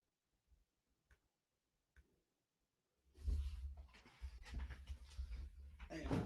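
A dog pants in a room, close and fairly loud, in a run of quick breathy bursts that begins after a few faint, scattered ticks in near silence.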